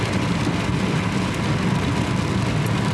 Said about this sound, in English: we'll see how this boat tour goes in the pouring rain